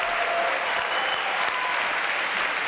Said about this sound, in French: Applaudissements pour cette jeune femme qui a beaucoup de talent,